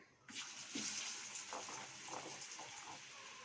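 Eggless gobi pakoda batter of cauliflower goes into hot frying oil, setting off a bubbling, crackling hiss that swells quickly and keeps a steady fizzing roar at moderate loudness, with no talking.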